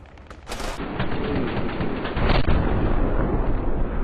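An RPG rocket is fired in the combat game Arma 3, a sharp launch blast followed by a loud sustained roaring rush that grows heavier near the end.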